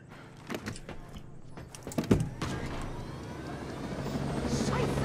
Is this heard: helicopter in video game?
yes